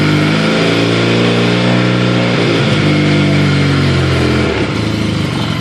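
A 2012 Arctic Cat XF 1100 Sno Pro snowmobile engine runs loud and close, its pitch rising and falling in several smooth rev swells over a constant rough drone.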